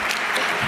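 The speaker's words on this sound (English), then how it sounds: "give him a round of applause" Brief burst of audience applause at a livestreamed stage panel event, a short, dense patter of clapping from a crowd, steady and fairly close throughout.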